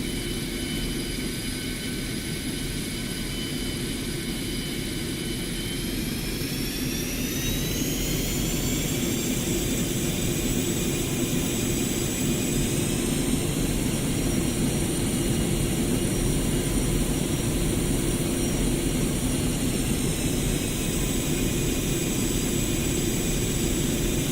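A jet aircraft taxis toward the runway in the DCS flight simulator game, its engines producing a loud, constant roar and whine whose pitch rises and shifts slowly as thrust changes, with no speech.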